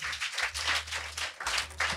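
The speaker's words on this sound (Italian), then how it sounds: "è tiepido questo applauso" Lukewarm audience applause, scattered clapping in waves of moderate loudness, briefly dipping before picking up again.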